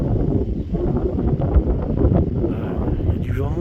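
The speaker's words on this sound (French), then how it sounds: "Il y a du vent, il y a tout ce que vous voulez." Steady wind buffeting the microphone amid mist, a constant low rumble with gusty swells throughout, along with faint voices in the background.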